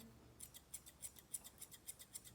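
Grooming scissors snip the coat of a Nova Scotia Duck Tolling Retriever in a quick, steady run of about a dozen crisp metallic clicks, close and quiet over a soft background hiss.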